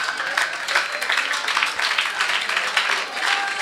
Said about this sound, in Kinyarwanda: ndabona mukomye amashyi